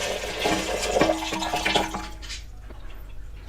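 Dark water from a 30-litre aquarium is poured out in a steady, splashy gush that thins and tapers off toward the end, with a final splash.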